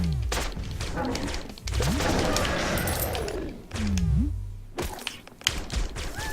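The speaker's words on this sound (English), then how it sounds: "You have to flint hook the bubble off its butt and then shoot it." Gunfire in the pixel-art game Flinthook, rapid bursts of shots mixed with thuds and descending electronic effects, loud and dense through the middle before scattered hits near the end.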